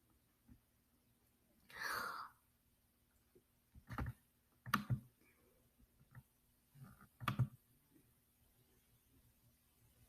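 Computer mouse clicks, a handful of quiet, close, irregular taps with soft breaths or rustles between them in an otherwise hushed room.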